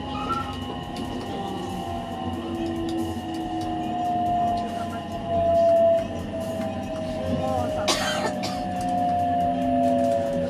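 Rail noise from inside the Mahoroba limited express as it runs through Higashi-Yodogawa station alongside a local train: a steady low rumble of wheels and motors with long tonal whines, loudest around the middle, plus a brief broadband burst near the end.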